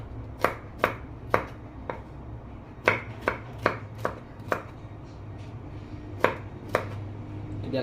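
Garlic being chopped with a knife on a board for a Malaysian squid sambal: about a dozen crisp, irregular strikes in short bursts, close and fairly loud over a low background hum.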